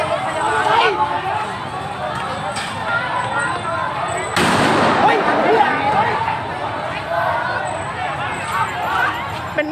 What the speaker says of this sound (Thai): มีการใช้กระสุนจริงนะครับ